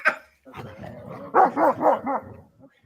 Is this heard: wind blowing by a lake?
no